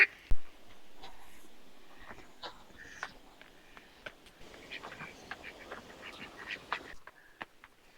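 Green-headed mallard ducks quack in scattered, uneven bursts, some loud and close and others fainter, over a busy outdoor background with faint voices.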